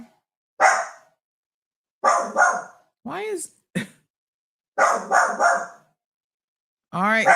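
A large guard dog barks in a living room, several loud, close bursts of barking with pauses between them, while a person speaks briefly nearby.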